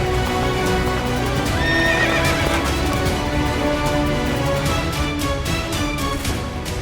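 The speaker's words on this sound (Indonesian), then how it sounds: "ini di belakang saya ada kuda lari sendiri nih" A riderless horse running loose near Mount Inerie, its hooves clip-clopping steadily with a loud whinny cutting through, close and continuous over an outdoor background.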